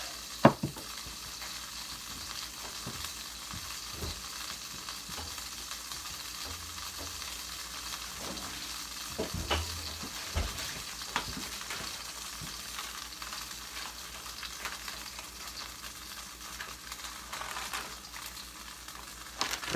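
Thick-cut bacon torn into pieces sizzles in a hot pan on a grill alongside a burger, a dense, steady crackle close by with occasional pops and spatula knocks and no talk.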